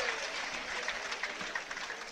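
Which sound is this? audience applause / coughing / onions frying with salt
audience applause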